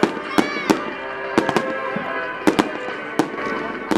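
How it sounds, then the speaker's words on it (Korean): Fireworks bursting over the Expo plaza in Yeosu on a summer night, a string of sharp loud bangs at uneven intervals over a steady crowded background hum. "토요일에는 특별히 엑스포 광장에서 15분 정도 불꽃놀이가 펼쳐지는데요"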